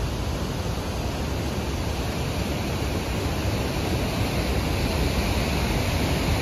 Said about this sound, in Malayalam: വെള്ളം കുത്തി ഒഴുകുന്ന ഒഴുക്കുണ്ടോ.